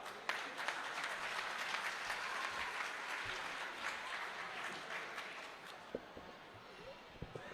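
Applause from the audience at a mushaira poetry gathering during a mango festival in Multan, a dense wash of clapping that swells and then gradually thins toward the end, with a few scattered louder claps.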